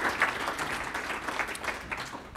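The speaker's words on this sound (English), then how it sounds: "Can we give our folks a round of applause for the work that they do?" Audience applause at a panel conversation, a moderate wash of clapping from a room of listeners that holds steady and fairly distant, with no one speaking over it.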